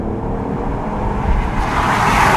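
BMW i8 hybrid sports car under hard acceleration, a loud continuous engine drone building steadily in pitch and intensity from inside the car, with no voices.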